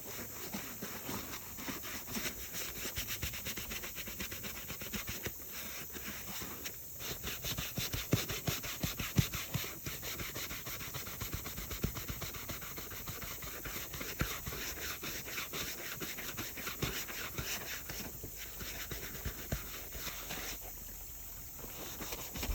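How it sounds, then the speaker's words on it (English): A 2011 Chevy Suburban seat is scrubbed by hand with a brush, making steady rapid back-and-forth rubbing strokes that continue for about twenty seconds. The scrubbing is close and moderately loud, with brief pauses and no talking. "It's all about scrubbing, really."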